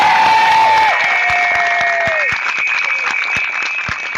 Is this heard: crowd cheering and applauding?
yes